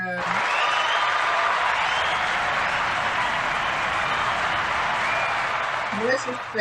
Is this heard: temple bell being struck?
no